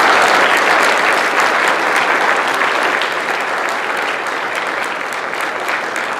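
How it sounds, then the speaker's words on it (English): An audience claps at the close of an event in Highland, California, giving a dense, sustained round of applause for the panel that tapers off slightly toward the end, with no talk over it. "Let's give a big round of applause for our panel."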